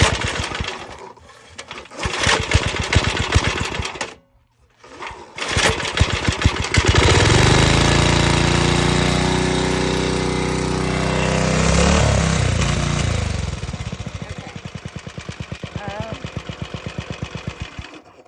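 A wood splitter's small engine sputters briefly, cuts out, then catches after a pull start and runs as a loud, close, steady drone with a shifting pitch, the idle growing choppier toward the end.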